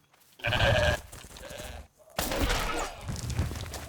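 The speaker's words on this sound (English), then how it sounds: "Hello, goat." A goat bleats in the video game Pax Dei, two loud close calls in quick succession, the second longer and wavering, with no talking over them.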